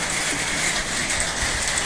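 Rain falls steadily in a rural farmyard, a broad even patter that stays constant and moderately loud, with no voices.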